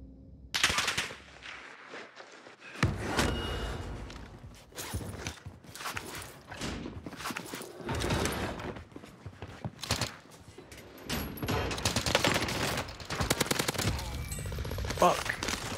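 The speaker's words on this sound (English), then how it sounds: "Enemy fire here." Enemy automatic gunfire in a Call of Duty Warzone match on Rebirth Island, with bursts of rapid shots and scattered single cracks repeating through the stretch, some close and loud, others farther off, with movement noises between.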